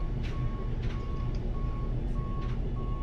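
Pushback tow truck beeping in reverse while moving a Boeing 787 Dreamliner at Denver in the X-Plane 11 flight simulator. Steady, evenly spaced electronic beeps sound over a constant low engine rumble, with no talking.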